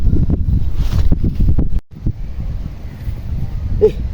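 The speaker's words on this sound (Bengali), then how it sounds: "কি শান্তির বাতাস" An outdoor breeze rumbles against the microphone in low, uneven gusts, briefly dropping out before returning more softly, with faint rustling in the background.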